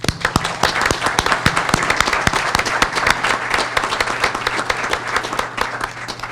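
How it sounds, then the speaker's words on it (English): Round of applause from an audience at a city council meeting honoring police youth academy recruits: dense, steady clapping from many hands, loud and close, sustained throughout with no break. "So recruits, I want to say thank you and give you guys a round of applause."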